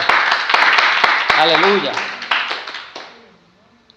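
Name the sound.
congregation clapping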